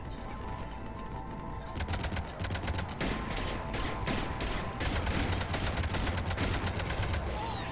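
Dense, continuous rapid-fire cannon fire in Mass Effect 3 Legendary Edition, sustained bursts layered over a rumbling mechanical background, loud and unbroken throughout.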